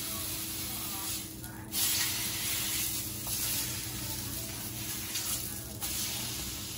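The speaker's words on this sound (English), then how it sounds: "Just dip it very quickly in the juice. Let it fry a little bit." A corn tortilla dipped in birria consommé fries in hot oil, giving a steady loud sizzle and hiss with slight swells in intensity.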